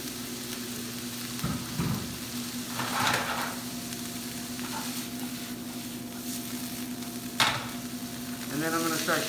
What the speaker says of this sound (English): Now I like to toast my rice a little bit just to add some nuttiness to the flavors.